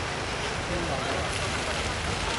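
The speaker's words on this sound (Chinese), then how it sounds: "一场毫无征兆的大暴雨却拦住了信众前来的脚步" A heavy nighttime rainstorm pours over temple stone steps in Malaysia on the eve of a deity procession, a dense, steady roar of rain filling the whole moment without a break.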